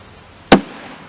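A single sharp, loud report from a CCI Uppercut subsonic .22LR round being fired, a crisp crack that decays quickly into a short tail, with quiet background before and after.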